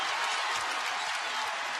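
A college basketball crowd at a Kentucky NCAA game, a loud, dense wash of cheering and applause filling the arena, steady and sustained.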